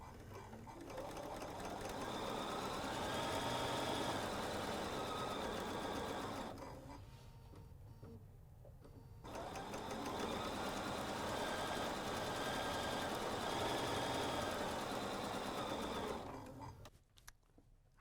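A sewing machine stitches in fast, steady runs, stopping briefly partway through before resuming, then halting near the end; close and continuous, with no talking.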